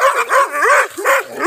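Two dogs bark loudly and close by in a quick run of high, yelping barks with whiny edges, four or five bursts back to back, with no one talking.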